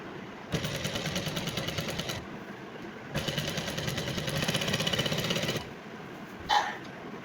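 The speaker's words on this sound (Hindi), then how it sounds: "ये देखिए, यहाँ से हाफ इंच छोड़ते हुए हम सिलाई कर रहे हैं।" Sewing machine stitching a fabric seam with a half-inch allowance, running in two sustained mechanical bursts separated by a pause, then a brief clack at the end. The sound is close and steady.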